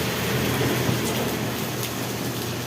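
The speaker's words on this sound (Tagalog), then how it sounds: "malakas ang ulan" Heavy rain at night beside a road in Philcoa, Quezon City, a steady dense hiss of falling water with no let-up, close and continuous.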